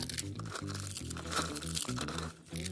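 Hands squeezing and crumbling washed peanut shells into small pieces for garden fertilizer, giving a close, continuous dry crinkling crunch with brief pauses, alone and fairly loud.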